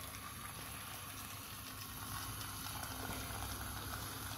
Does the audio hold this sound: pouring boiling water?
yes